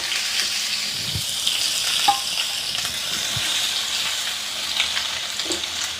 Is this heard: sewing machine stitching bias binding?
no